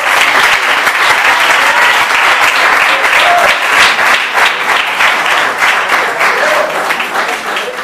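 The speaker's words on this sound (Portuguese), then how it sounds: "Pode aplaudir." Sustained applause from a church congregation fills the space, steady and loud throughout, with a few voices rising faintly under the clapping.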